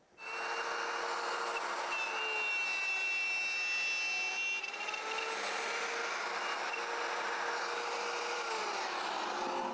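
Wood pieces being shaped with a router following a template for an LMI side bender mold, a loud steady high whine with broadband cutting noise that holds evenly for nearly ten seconds after a quick start.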